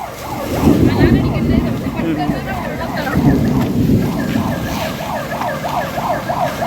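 A siren on Gunung Pulai in Johor, Malaysia wails in repeated rising and falling sweeps, fairly close and loud, while people talk over it.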